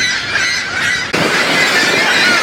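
Many birds call and honk over a steady, loud roar of rushing water at Niagara Falls, the cries continuing throughout with a brief dip just past the one-second mark.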